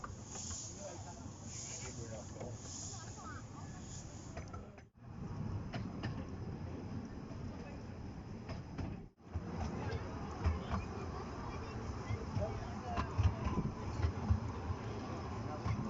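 Steam locomotive River Urt, a tender engine on the Ravenglass narrow-gauge railway, pulling out of a station; a continuous hiss and rumble of the moving train heard from on board, with two brief dropouts partway through.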